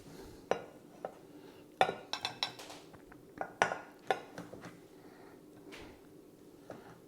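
Dishes and cutlery clink and knock on a kitchen counter while one vegetarian and one chicken portion of Mexican chilli beans with rice are plated up; a string of sharp, close taps and scrapes, clustered in bursts, with no talk.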